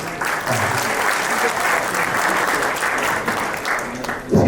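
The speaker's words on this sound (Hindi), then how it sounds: "देखिए हमारे एम्बेसडर साहब का अपने तालियों स्वागत करना पड़ेगा आपको." Audience applause welcoming an ambassador to the stage at a formal event, dense sustained clapping throughout, loud and close, ending in a sharper burst.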